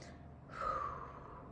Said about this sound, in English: Take 3 deep breaths in.